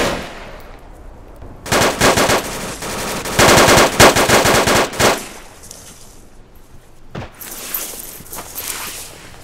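Automatic machine-gun fire and scattered gunshots in the video game Arma 2, set in an insurgency mission in Takistan. Loud, dense bursts come in several clusters, then a single sharp crack and more distant rattling fire, with no talk.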